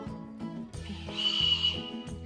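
A candy whistle blown in short shrill, wavering bursts, with breathy pauses in between, close and fairly soft.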